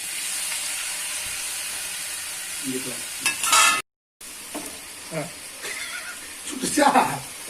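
Tomatoes sizzle in a hot kadai, a steady frying hiss broken by bursts of scraping as they are stirred, with a brief silent gap midway.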